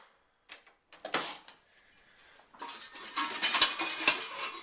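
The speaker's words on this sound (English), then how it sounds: "So we got the frying pan." A metal frying pan clatters and scrapes in a series of clanks and knocks, close up, with a brief lull between bursts.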